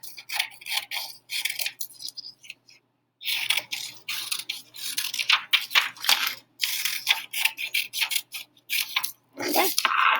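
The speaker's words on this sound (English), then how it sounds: "Pause if you need to while I'm cutting out and gluing also." Paper is cut out and glued into a foldable for notes, with rapid close snips, rubs and paper handling in bursts separated by brief pauses, no talk.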